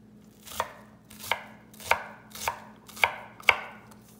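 A knife chops onions on a cutting board in six evenly spaced, crisp thuds about half a second apart, close and clear with no voices.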